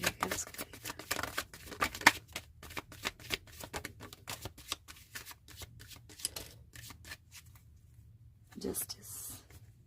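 Tarot cards shuffled by hand in quick repeated riffles and taps, a light crisp patter close to the mic, with soft talking at times alongside.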